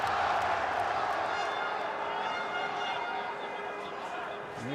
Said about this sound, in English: crowd on their feet already for Khan.